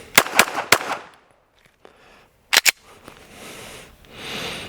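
Glock 17 Gen 6 pistol at a USPSA Carry Optics practice, with a few sharp close clicks and snaps of the action followed by a brief double click after a pause, no shot report, loud and near.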